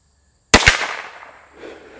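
A single sharp .22 LR shot from a Chiappa Little Badger rifle, followed a split second later by the clang of a steel popper target, then a fading ring in a quiet outdoor setting.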